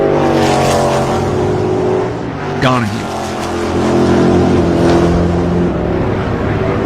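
1967 Can-Am sports racing cars, with Denny Hulme among the drivers, roar loudly through a sweeping corner at a Canadian Grand Prix, engines droning continuously as one car sweeps past, under a commentator's voice.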